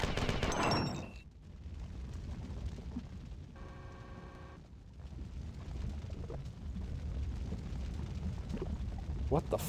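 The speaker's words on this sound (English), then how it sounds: "just freaking funnel those guys through a doorway and lob grenades at them" Grenade blasts and gunfire from a video game open with a sharp burst, then roll into a low, continuous rumble of explosions and shots at moderate loudness.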